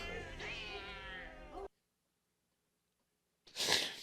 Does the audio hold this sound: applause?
no